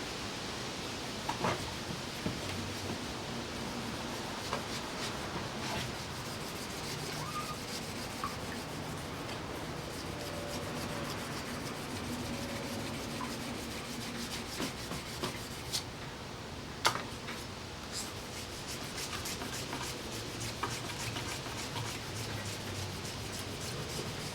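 Steel knife blade, made from a machete, hand sanded in one direction, a continuous dry rasping rub with occasional light taps, close and steady with no talking.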